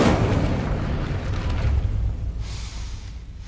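A whooshing, roaring burst of flame from the Incendio fire spell in Hogwarts Legacy, loud at the start and sustained before tapering off, with no voices.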